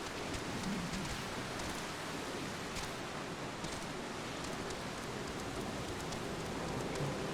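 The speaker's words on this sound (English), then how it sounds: "this is quite the rainstorm." A rainstorm in Final Fantasy XIV gives a constant, fairly quiet wash of falling rain with a few scattered drop taps, holding evenly throughout.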